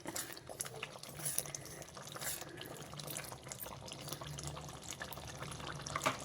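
Aloo curry in a pot keeps bubbling softly after the heat is switched off, with faint, irregular pops and gurgles at close range.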